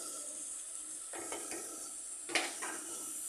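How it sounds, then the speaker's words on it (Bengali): Spice paste of chili, turmeric, cumin and salt frying in a pan for jackfruit kofta, a soft continuous sizzle with a few brief scraping strokes of a spatula, close and fairly quiet. "সব উপকরণগুলো দিয়ে আমি ভালোভাবে মশলাটাকে কষে নেব"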